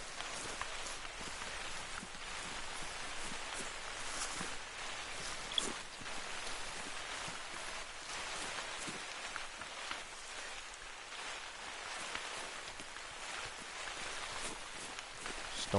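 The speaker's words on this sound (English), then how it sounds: "Oh, and the rain in this game looks absolutely magnificent." Steady rain falls in the hunting video game Hunter Call of the Wild, a constant hiss of drops on surfaces. A few soft footstep-like thuds sit beneath the downpour, which holds an even, moderately quiet level throughout.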